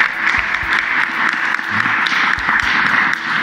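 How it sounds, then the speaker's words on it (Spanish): Crowd applause at a public political event, a dense, continuous patter of many hands clapping at moderate loudness, sustained evenly without talk over it. "Un aplauso para ti"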